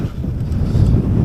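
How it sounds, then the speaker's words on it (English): Wind buffeting the microphone on an e-MTB ride by Derwent Reservoir on a stormy day, a steady low roar that swells slightly toward the end, with no speech. "If it wasn't so windy, it would be a nice day."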